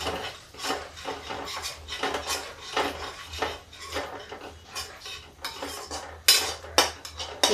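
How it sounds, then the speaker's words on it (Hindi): Pakoras cooking in a pan on a home stove, with metal utensils repeatedly scraping and clinking against the pan in an irregular stirring rhythm, close and fairly quiet, no talking. "इधर हमारी पकौड़ियाँ पक रही हैं।"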